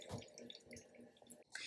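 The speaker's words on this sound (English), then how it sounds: "And we just wait, let it pour through." Pour-over coffee trickling through a paper filter, a soft continuous dribble and drip of liquid heard up close and fairly faint, with no talking.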